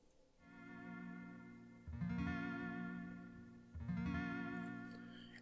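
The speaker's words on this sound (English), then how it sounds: "We have this little pattern in here, which is this little slow strum." A slow synthesized strum from the Stardust preset in FL Studio, played dry without effects: two soft, evenly spaced chord swells that each bloom and ring out, quiet and clean with no voice.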